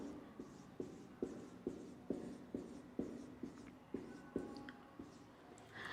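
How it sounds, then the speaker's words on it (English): A black marker squeaks and scratches across paper in short, regular strokes, close and quiet, with faint background hiss. "I am drawing with black color marker phloem cells."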